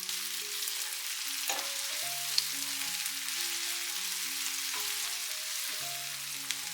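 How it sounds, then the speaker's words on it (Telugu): Tomatoes fry in a pan with ginger and garlic paste, giving a continuous, even sizzle beneath a light melodic background tune, with no voices. "ఇది పచ్చివాసన పోయే వరకు మనం వేయించుకోవాలి."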